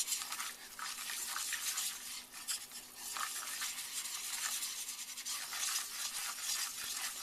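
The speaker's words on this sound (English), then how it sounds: "put our 1/4 cup of all-purpose flour in and whisk it until it makes a paste" Whisk scraping steadily through flour and melted butter as it forms a paste for macaroni and cheese, a continuous bright scratchy stirring with a quick rhythmic texture, close and fairly loud, no voices.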